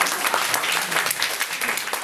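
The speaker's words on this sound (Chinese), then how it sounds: "来鼓掌一下啦。" A lecture audience claps briefly, a dense burst of applause from a small crowd lasting about two seconds.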